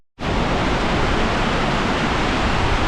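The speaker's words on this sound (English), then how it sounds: "here's the first half decent waterfall of the walk, feeding into the river with the scree slopes" Waterfall feeding into a river below scree slopes on New Zealand's South Island: a loud, steady broadband roar of rushing water that starts abruptly and holds constant, with no voices.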